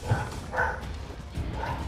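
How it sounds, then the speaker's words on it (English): A dog in Helldivers 2 gives a few short yapping barks, whiny and close, spaced irregularly over a rumbling low background. "Someone quiet the dog."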